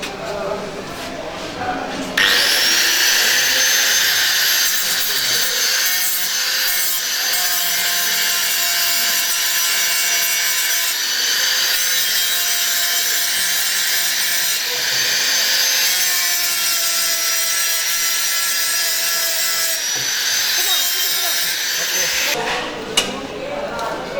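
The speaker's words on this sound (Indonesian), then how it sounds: "ini merupakan untuk menggerinda dari sisa hasil daripada pengoboran dan sisa hasil dari pengelasan" An angle grinder smooths leftover drilling and welding residue on a metal pellet stove under construction, running loud and steady for about twenty seconds with a bright, sustained whine and faint voices in the background.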